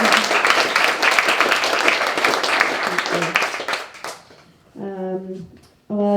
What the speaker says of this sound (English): All right, round of applause again for these wonderful